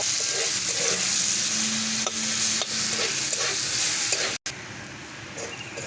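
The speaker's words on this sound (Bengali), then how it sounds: "পেঁয়াজটাকে লাল লাল করে ভেজে নেব।" Onions fry in oil in a pan and are stirred, making a steady close sizzle with repeated scraping strokes of a spoon and one brief cut near the end.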